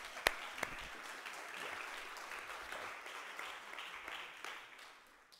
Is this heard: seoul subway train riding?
no